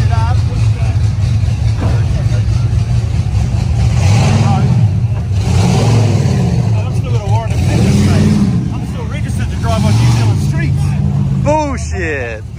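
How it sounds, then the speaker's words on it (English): A car at Summernats revs hard during a burnout on Skid Row, engine roaring loud and close with rising and falling pitch sweeps, while a voice talks over it. "We're about to jump down and smash some tires."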